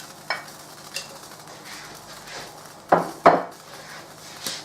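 Mustard seeds, cardamom, cloves and bay leaves crackle and sizzle in hot oil for a goat curry, with a steady faint fry broken by several sharp pops and clinks of a spoon against the pot.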